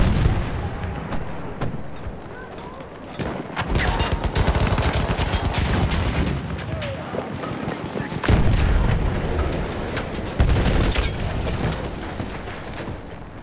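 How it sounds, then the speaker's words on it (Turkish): Gunfire and explosions from the Battlefield 1 Conquest battle on the Sinai Desert map: dense, overlapping bursts of shots and booming blasts over roughly thirteen seconds, with louder surges around the middle and late in the stretch. "Bomba atıyorum. Hazır olun."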